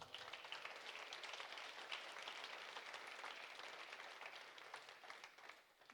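A church congregation applauds, a dense, continuous patter of many hands clapping together, heard from a distance and fairly faint, fading out at the end.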